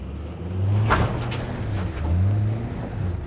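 A 1968 Chevrolet C10 pickup accelerates hard in snow, its engine surging up in two rising swells with a rough, throaty roar and a brief scrabbling burst, heard from nearby.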